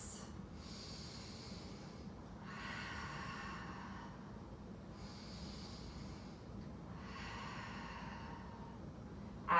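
Slow, deep breaths during a yoga flow, with two long cycles of audible inhale and exhale drawn through the nose, close and quiet.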